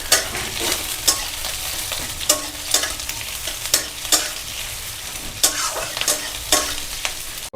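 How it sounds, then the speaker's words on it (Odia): Onions frying in a pan for a crab curry, with steady sizzling and repeated stirring scrapes from a spatula, close and fairly loud with no talking. "ପକାଇଲେ ପିଆଜ,"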